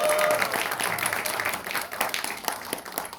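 Applause at a party youth committee launch meeting with a member of the National Assembly, a crowd clapping loudly at first and then tapering slightly while continuing, with a voice faintly audible beneath.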